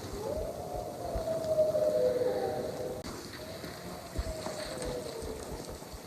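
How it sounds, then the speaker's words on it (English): Pack of wolves howling far off in Idaho public-land woods, long wavering tones rising and overlapping for several seconds over steady rain-like background hiss. "Pretty gnarly having wolves."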